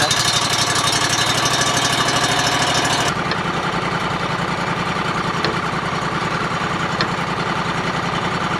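A small Honda engine, likely on a sawmill cutting ash, runs steadily and loud throughout, its tone dropping and settling to a lower, even idle-like drone about a third of the way in, with no talk.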